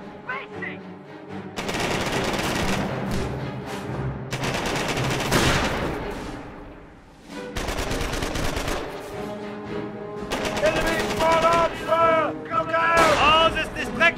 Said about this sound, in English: Taking heavy MG fire!